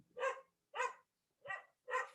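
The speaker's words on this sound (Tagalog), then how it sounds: "Hingay ng aso namin." A dog barks four times in a steady rhythm, each bark short and close, with brief silences between them.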